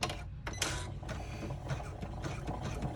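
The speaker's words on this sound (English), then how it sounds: "Let's go ahead and run the basting stitch to hold this pocket in place." An in-the-hoop embroidery machine runs a basting stitch to hold a pocket on a cell phone wallet, giving a quiet, rapid mechanical chatter with a few sharper clacks near the start and no talk.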